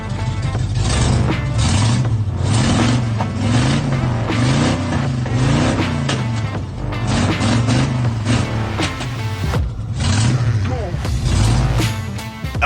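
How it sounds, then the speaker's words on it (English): A 1986 Chevy S10 engine revs repeatedly, its pitch rising and falling in regular waves, loud and close throughout with a busy layer of other sound on top. "those car sounds, by the way, are courtesy of Colin Schroem. That's his 1986 Chevy S10"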